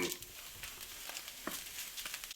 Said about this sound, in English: gonna toast up this flour a little bit and let it soak up all the juices from the sausage